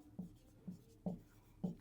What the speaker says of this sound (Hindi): अब हम इन सेट्स को लिखेंगे